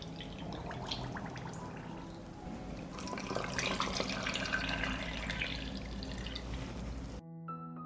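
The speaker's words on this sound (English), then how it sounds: "I will fill the jars with water to cover the peaches" Water pours steadily from a tap into jars packed with peaches for canning, a continuous close splashing flow that runs unbroken before cutting off suddenly.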